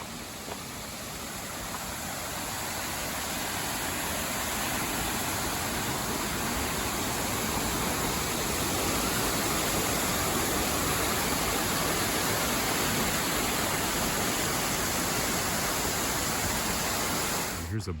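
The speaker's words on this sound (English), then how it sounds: "Thundering Falls is the highest falls on the AT in Vermont" Thundering Falls, the tallest waterfall on the Appalachian Trail in Vermont, roars as a steady, dense rush of falling water, loud and constant throughout with no voices over it.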